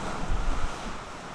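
Strong wind buffets the microphone aboard a reefed catamaran sailing in about 22 knots, with wash from the waves rumbling underneath in a loud, steady, unbroken roar.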